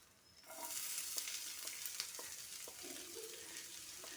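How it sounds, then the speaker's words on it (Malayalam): Shallots dropped into hot oil in a pan sizzle and crackle steadily for several seconds, a close, moderately quiet frying hiss with small pops, as part of making a spiced egg snack. "എന്നിട്ട് നമുക്ക് അതിലേക്ക് കൊച്ചുള്ളി ഇടാം."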